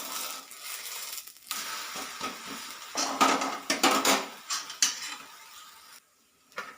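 A wheat dosa is flipped on a pan, with scraping and clattering of a metal spatula against the pan in short irregular bursts, then a brief pause and a final knock.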